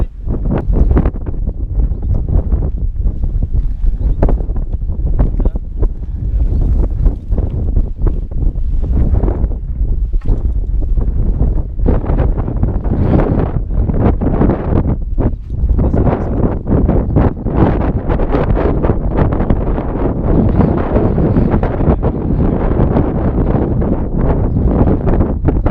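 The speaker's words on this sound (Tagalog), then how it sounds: "Dami na yung hangin." Strong, steady wind roars and buffets the microphone throughout on a mountain bike ride near a waterfall in Africa, loud and continuous with gusty surges.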